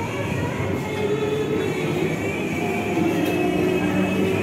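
A train rumbles steadily at Dum Dum railway station, with a continuous low roar and faint metallic whining and squeals running through the whole stretch.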